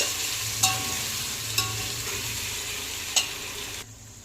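Already-boiled prawns being gently stirred and lightly fried in a pan for prawn biryani: a steady close sizzle broken by three sharp spatula taps against the pan, ending in sudden quiet, no voices.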